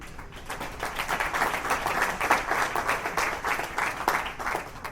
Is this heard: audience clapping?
yes